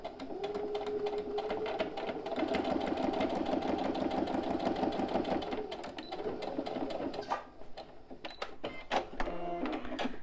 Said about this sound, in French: on va venir refaire une couture